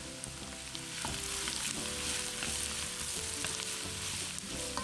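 Carrots and diced smoked sausage sauté in a soup pot with garlic, a steady close sizzle and fry with occasional stirring scrapes running continuously throughout.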